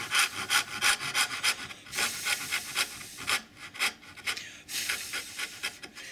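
A small hand saw starts a cut in pine with quick, short back-and-forth rasping strokes, close and fairly quiet, in an irregular rhythm with brief pauses between bursts.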